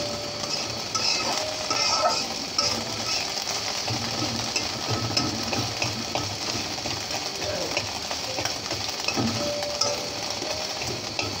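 A spoon stirring Chinese fried rice in a pan: continuous scraping and shuffling over a steady sizzle, close and moderately loud, with no talking.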